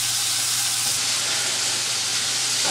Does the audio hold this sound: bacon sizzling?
yes